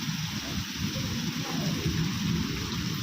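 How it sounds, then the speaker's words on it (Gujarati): Heavy rain pouring onto a flooded rooftop terrace, a steady dense wash of noise with low rumbling texture, continuous and fairly close throughout with no voices. "જુઓ વરસાદ તો બહુ આવો ને, ચારે બાજુ પાણી ભરાઈ ગયું છે"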